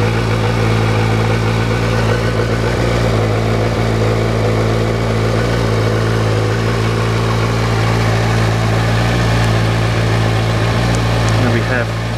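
A motorcycle engine with heated grips and a gear indicator runs at a loud, close, steady idle, an unbroken low throb that holds level throughout with no voices.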